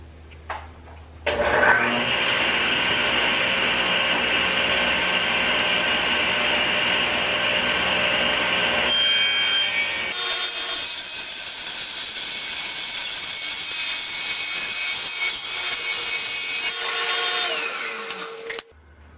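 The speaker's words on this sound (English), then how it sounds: "I'm going to rip it all the way down" A power saw rips lengthwise through a wooden RV bed frame in two long continuous cuts, a loud sustained whine and buzz separated by a short pause, with the motor spinning down at the end.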